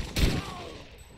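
A single sharp gunshot from the video game Modern Warfare 2 cracks early, followed by a brief ringing tail fading out.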